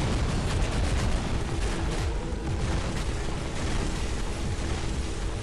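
Bombardment zone blasts in the mobile battle-royale game Free Fire: a dense, continuous rumble of overlapping booming explosions at full loudness throughout, with no talking.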